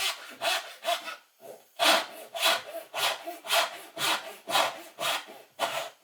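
A Western-style hand saw cuts through wood in steady back-and-forth strokes, about ten rasping passes in a regular rhythm, close and fairly loud with no voices.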